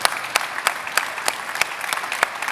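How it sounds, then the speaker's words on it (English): Conference audience in a congress center applauding the organizers, a steady wash of clapping with sharp distinct claps standing out at regular intervals. "I do want a big round of applause, please, for all of the organizers who have organized this conference over the last 3 days."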